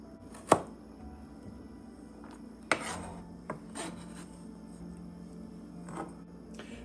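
Knife chops through sweet corn on a cutting board, a few sharp, separate thunks spaced irregularly, close and fairly quiet against a soft background hum.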